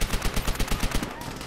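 Rapid bursts of gunfire from an MP40 in Call of Duty: World at War, a steady rhythmic volley of close, loud shots lasting under two seconds, with no talking over it.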